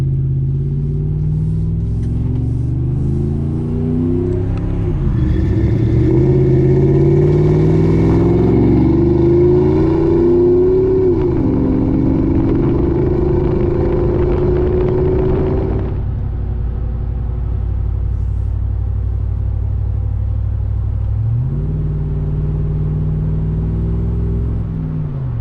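A deep, loud exhaust on a 2008 Ford F-150 XLT Lariat pickup with a Flowmaster muffler rumbles and revs up and down repeatedly, settling into a throaty idle before another brief rev.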